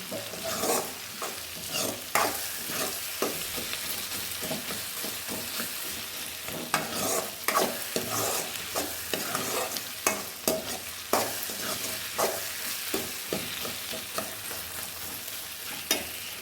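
Sliced onions with green chilli and ginger sautéing in a pan for potato masala, heard up close as a continuous sizzle broken by repeated scraping stir strokes, with no talking.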